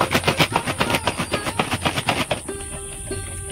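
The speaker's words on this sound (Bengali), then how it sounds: "দেখুন বোতলে আমি নাড়ছি, বোতলের গায়ে দেখা যাচ্ছে খোসাগুলো উঠে যাচ্ছে।" Jackfruit seeds are shaken hard inside a bottle to strip their skins, making a fast rhythmic rattling and knocking of about a dozen strokes that stops abruptly near the end.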